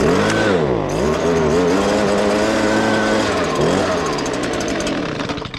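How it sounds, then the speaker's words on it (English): A small air blower clearing plastic shavings during a pressure washing truck build runs loud and steady throughout, a continuous engine-like whine with pitch that dips and rises, tapering off slightly at the end. "now let's turn our blower on and so we can blow the shavings away"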